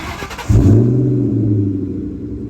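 A 2003 Ford Mustang SVT Cobra with a 500 hp engine starts or blips up, then settles into a deep, loud, steady rumbling idle close by.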